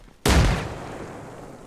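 A frag grenade explodes in Arma Reforger, one sudden loud close blast with a heavy low thump that decays into a lingering rumbling tail.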